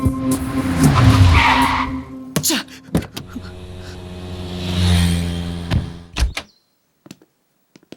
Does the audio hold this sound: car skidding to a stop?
yes